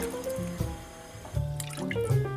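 Two-thirds of a cup of water pours and splashes into a bowl, with dripping, trickling sounds, fairly close and moderately quiet.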